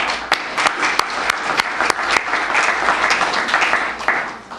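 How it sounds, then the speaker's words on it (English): Loud, close applause from a crowd at an education breakfast, dense clapping with sharp individual claps standing out, sustained throughout. "Why don't you give yourselves a round of applause?"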